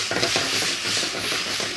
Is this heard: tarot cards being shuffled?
no